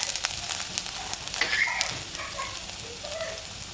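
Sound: garlic and ginger sizzling in hot oil

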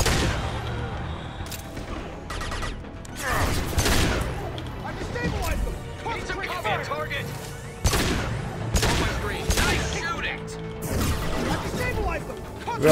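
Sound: gunfire in video game Mass Effect 2

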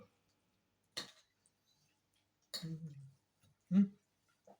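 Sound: stirring salad with a spoon

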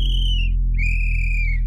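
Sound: whistle blown in animated story

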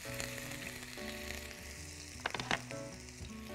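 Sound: ginger frying in sesame oil in a wok

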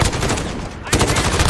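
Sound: R556 rifle gunfire in the video game Call of Duty Modern Warfare

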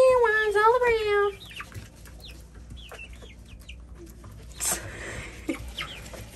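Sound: showgirl and silkie chickens clucking over mealworms

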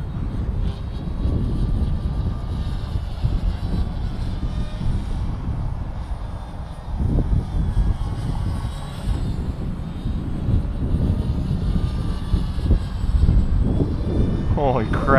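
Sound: Gaui X2 RC helicopter flying fast into the wind

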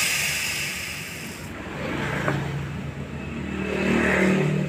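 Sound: LPG gas flushing oil out of Polytron two-door refrigerator pipes

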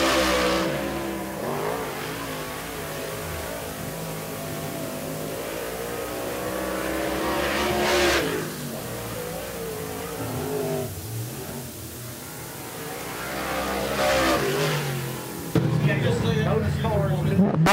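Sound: race cars qualifying at Tri County Racetrack

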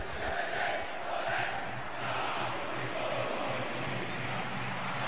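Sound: football crowd chanting for player Aloísio

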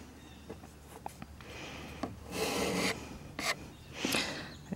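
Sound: wiping off excess filler from wood with cloth

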